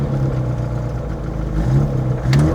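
A modified 1050cc engine in an Autobianchi A112 Abarth, fitted with a reworked cylinder head, bigger carburettor and wild cam, hums steadily and loudly close by, rising slightly in revs toward the end.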